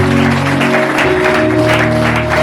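A church congregation applauding together, a dense sustained wash of clapping that runs without pause over steady musical tones in the background, loud and close.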